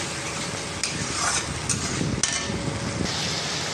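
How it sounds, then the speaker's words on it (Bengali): Spices with Kashmiri chili and salt being stir-fried in a pan, producing a loud, continuous sizzle with spatula scrapes and occasional clicks against the pan, close up and with no talking. "এবার দিয়ে এটা ভালো মতো সুন্দর করে কষিয়ে নেব"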